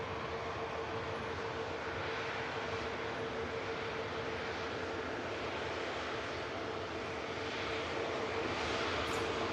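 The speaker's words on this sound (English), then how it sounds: "There's a second 350 in from Orlando" Airbus A350 jet arriving at Manchester Airport from Orlando, a steady distant engine roar with a faint whine, holding evenly and swelling slightly near the end, with no talk.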